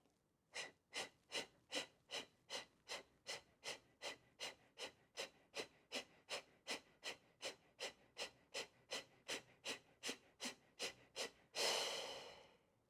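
Rapid rhythmic breathing during a yoga breathing exercise: about thirty sharp, evenly spaced forceful exhales in a steady pulse, close to the microphone, ending with one longer, deeper breath.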